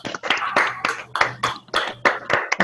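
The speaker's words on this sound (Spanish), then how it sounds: "Un aplauso a la doctora." Audience applause for a doctor after a talk on children's rights: a few people clapping in quick, uneven bursts, fairly close and distinct, with no voices over it.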